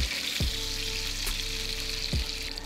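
A duck breast (magret) sears skin side down in its own rendered fat, making a loud, continuous close sizzle with a few brief bumps of movement in the pan.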